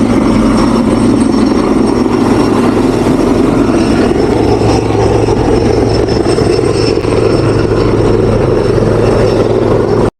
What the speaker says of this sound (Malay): Tak tahu lah apa helikopter ni. Dia tadi duk pusing-pusing.